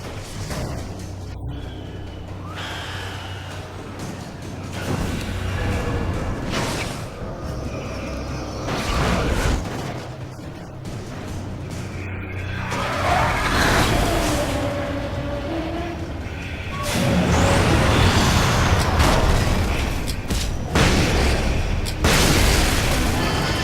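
Flashbang explosions in the video game Alan Wake on Xbox 360, loud rolling booms and bursts repeating over a dense, continuous rumble with no pause.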